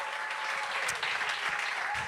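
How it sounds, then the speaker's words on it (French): An audience at a French comedy talk show claps in a dense, steady burst of applause that lasts the full couple of seconds, with no talk over it. "on applaudit Jer."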